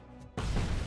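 A grenade explosion in the game RoboCop: Rogue City goes off abruptly with a loud, broad blast that follows a quieter stretch and holds as a dense roar for the rest of the moment.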